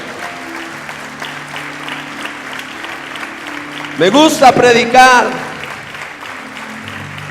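A church congregation breaks into a loud burst of applause and cheering for about two seconds, rising over a quieter background hum while a Spanish-speaking pastor preaches before and after the clapping.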